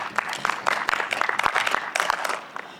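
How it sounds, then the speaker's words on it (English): A small audience gives a short round of applause at a talk event, with scattered, uneven claps in a brief burst that thins out and fades by the end. "Can we give them a round of applause?"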